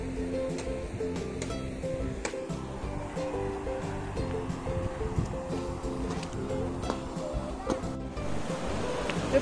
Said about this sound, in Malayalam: പാലത്തിന്റെ താഴെ കൂടെ വെള്ളം ഒഴുകുന്നു